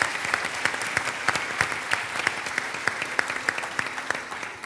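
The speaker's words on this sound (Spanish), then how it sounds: "Un aplauso, por favor, para todos ellos." Steady audience applause for panelists at the close of a panel on open government in Latin America, many hands clapping evenly at moderate loudness with a few sharper nearby claps standing out.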